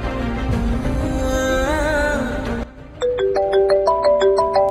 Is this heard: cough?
no